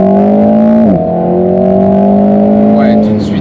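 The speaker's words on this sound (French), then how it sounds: "Ça change un peu la sonorité du moteur, on entend un peu plus" An Alpine A110 GT sports car engine in sport mode hums loudly at a steady pitch, dipping briefly before settling into a deep, sustained drone.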